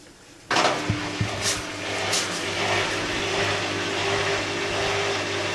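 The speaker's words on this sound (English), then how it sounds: "we got the new carbon brushes in, and I'll just give it a spin for you." An empty washing machine drum, fitted with new carbon brushes, starts abruptly and spins up into a steady loud motor whine and whirring hum, with a few early clunks as it gets going, continuing evenly to the end.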